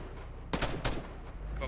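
Gunfire in Arma 3 during a military simulation operation: a couple of quick, close bursts crack out together, briefly loud over a constant low background rumble.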